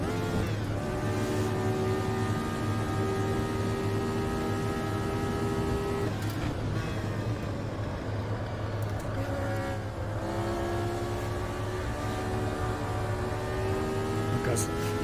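Loud Formula Retro race car engine in Automobilista on the 1974 Spielberg track, howling steadily with rising and falling pitch through gear changes and a sharp drop around the middle, engine noise dominant throughout.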